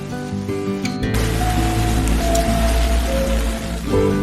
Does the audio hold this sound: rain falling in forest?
yes